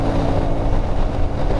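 A CFMOTO 450 MT motorcycle revving high at freeway speed: a dense, steady engine drone mixed with road and wind roar, close and loud throughout with no talk.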